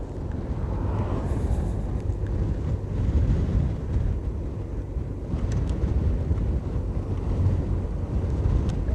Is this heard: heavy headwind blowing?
yes